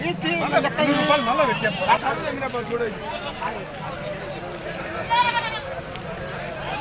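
Goats bleating repeatedly amid the hubbub of a busy livestock market in Allagadda, with several wavering calls near and far over a steady crowd murmur and background voices.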